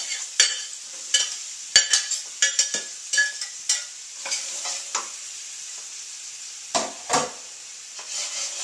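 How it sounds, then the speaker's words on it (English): Yellow onion, carrots, celery and red potato sauté in olive oil under a steady close sizzle, with a run of sharp spoon scrapes and knocks against the pan. No one speaks. "I'm going to let this saute at first."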